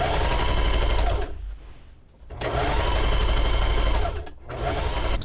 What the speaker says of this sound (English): I'm going to go and top stitch the seam down.